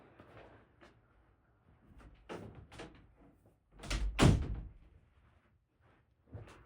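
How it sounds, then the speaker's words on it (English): A household door swings and bangs shut with a couple of loud thuds, preceded by softer shuffling and movement sounds; a final knock follows after a short quiet gap. "I have to shut the door for the dogs."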